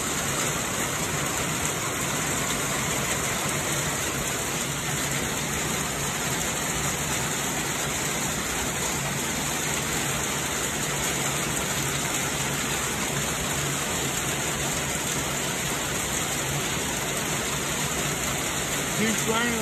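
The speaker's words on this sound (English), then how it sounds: "Keeps raining like this for a long period of time, the pond will flood." Heavy rain pours in a constant dense hiss onto a tent during a stormy camping trip, loud and unbroken throughout, with no speech.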